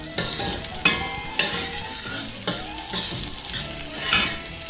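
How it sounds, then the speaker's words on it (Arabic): Two onions frying in half a cup of oil for a kabsa rice base, stirred in the pot: a close sizzle punctuated by several sharp scraping strokes of the spoon spaced about a second apart, no voices. "نص كوب زيت، البصلتين، نقلب"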